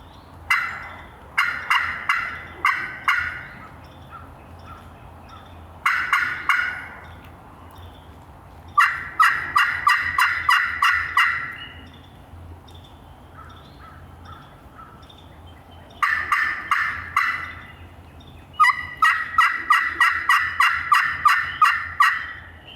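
Wild turkeys gobble repeatedly in loud bursts, several rattling calls overlapping, separated by short pauses, with no talking.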